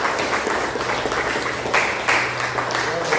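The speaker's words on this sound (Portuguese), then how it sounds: "Dê uma salva de palmas ao Senhor." A church congregation gives a round of applause to the Lord during a service, a thick, continuous wash of clapping at steady volume with faint voices and a low background tone beneath it.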